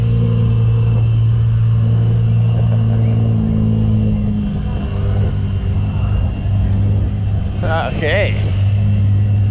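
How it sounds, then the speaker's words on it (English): A Lamborghini idles and rumbles after starting at an outdoor car show, its deep steady engine note running loud and close throughout while a person talks over it. "I think that's that Lamborghini that's just started."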